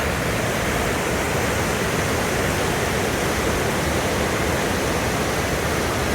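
Turbulent, silty river water near Laughing Falls in Yoho National Park roars as a dense, steady, broadband rush, close and loud with no voices.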